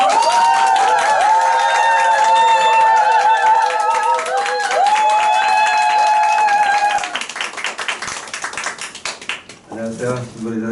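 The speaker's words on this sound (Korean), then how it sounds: "박수." An audience at a Nu Skin company group event claps, with dense, steady applause under loud music at first, then carrying on more raggedly as the music fades and a voice begins to speak.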